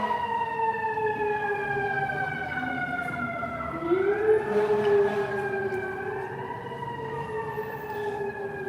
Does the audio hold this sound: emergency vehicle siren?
yes